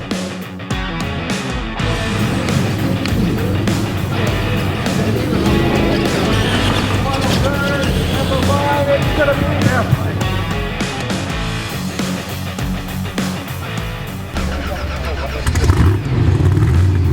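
RC monster trucks racing in the Retro class at the 2024 Bigfoot Open House, small motors revving and whining continuously amid loud crowd and venue noise.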